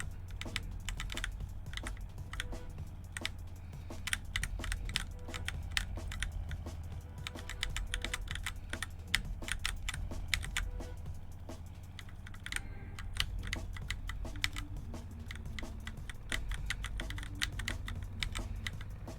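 Keys on a computer keyboard tap in quick, uneven clusters during play of Prison Escape Simulator: Dig Out, close and crisp above a constant low background drone, no voices.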